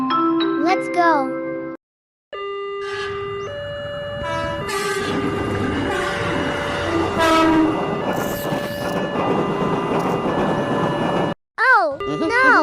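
Animated railroad crossing scene with trains passing and repeated horn blasts, wavering warning tones and bell-like jingles over a steady rumble, with brief silent gaps near the start and end.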